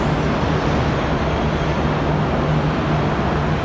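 Steady rumble of a train at Southern Cross station in Melbourne, a continuous loud drone with a low hum holding throughout, heard as one passes close by the platform.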